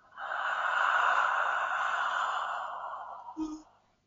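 A person yawns in a long, breathy exhale lasting a few seconds, close and fairly loud, tapering off with a brief snort at the end.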